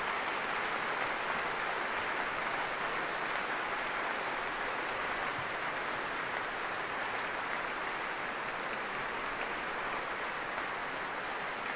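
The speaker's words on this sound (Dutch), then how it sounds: "als u zometeen het applaus weer hoort aanzwellen, dan weet u dat ook de solisten weer op het podium staan" A concert hall audience applauds steadily and densely after Beethoven's Ninth Symphony by the Radio Philharmonic Orchestra, as the soloists return to the stage, the sound sustained and even throughout.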